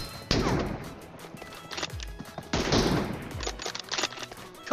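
Bursts of rifle gunfire from an M24 bolt-action sniper rifle in a team deathmatch shooter video game, a few sharp loud shots with echoing tails spread across a few seconds, no talking.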